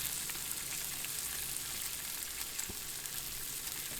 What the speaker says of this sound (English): Going to add the onions to the griddle and our shiitake mushrooms.